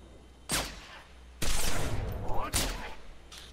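Three sharp pistol shots in a first-person shooter game, spaced about a second apart, loud and close, each with a short noisy tail over a low background hum.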